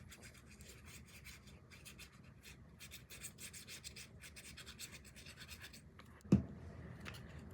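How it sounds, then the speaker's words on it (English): Paper strips being burnished down by hand for a Christmas mini book, a soft close scratchy rubbing in quick repeated strokes, ending with a small sharp tap. "I'm going to burnish all these down."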